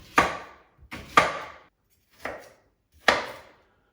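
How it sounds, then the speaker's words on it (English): A knife chops onion on a board in four sharp, separate strikes with short pauses between them. The strikes are close and crisp, with no talk. "So I cut the onion."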